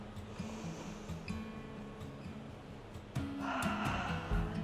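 A deep inhale during a breath-led mobility stretch at home, a drawn-out breath that swells near the end over steady background music.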